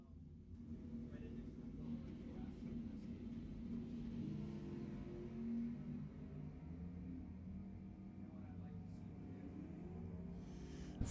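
First-generation Camaro drag racing at Lebanon Valley Dragway, a low engine rumble droning steadily at a distance, with a faint voice over it.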